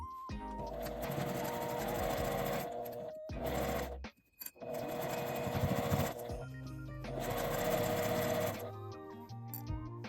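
A sewing machine stitches along the folded edge of a lined fabric pouch in long, steady bursts of rapid whirring, with short pauses between runs, close and clear with no talking.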